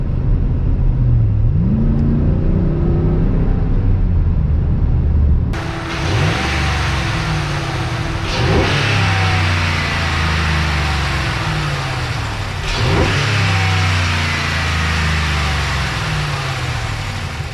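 A stock RAM 5.7L HEMI truck engine at partial throttle idles, then revs up three times in clear repeated surges, each rising sharply and falling back, close and loud.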